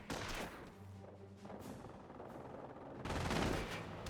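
An MG42 machine gun in the Company of Heroes video game fires in steady rattling bursts, fairly quiet in the game mix, with a heavier surge of fire toward the end and no talk.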